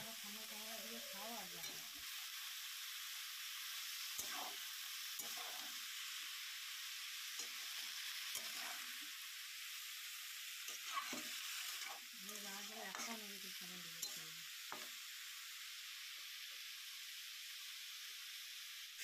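Panch phoron and dry red chillies sizzle in oil with a steady, fairly quiet hiss, occasional stirring scrapes, and faint bits of voice now and then.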